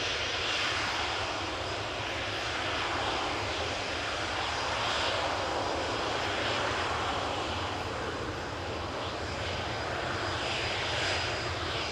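A CRJ regional jet takes off at Amsterdam Schiphol Airport, its engines giving a steady, broad roar that stays fairly distant and holds level throughout.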